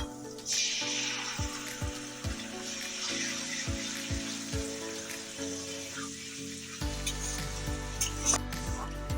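Ground tomato paste hits hot fish-frying oil and sizzles with a rain-like crackle, accompanied by repeated knocks of a spatula stirring in the pan; no one speaks.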